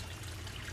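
Water trickles in a steady, faint stream over low background rumble, close by and without voices.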